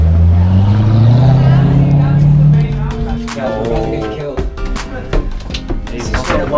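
A Corvette sports car drives past on a street with a loud, close engine roar that fades after a few seconds, followed by scattered clatter and people talking nearby.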